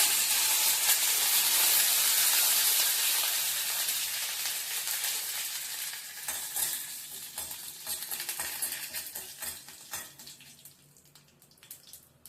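Urad dal, dried chilies and curry leaves fry in hot oil with mustard seeds, giving a loud, bright sizzle that slowly fades and turns into softer crackles and pops.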